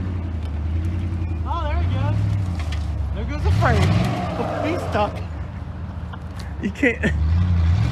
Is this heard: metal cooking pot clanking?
no